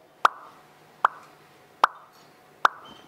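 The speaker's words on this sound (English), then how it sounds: "Gorgeous female standard poodle pops her lips and the tongue just comes straight out" A female standard poodle popping her lips, four sharp wet pops at an even, unhurried rhythm, close and clear against a quiet room.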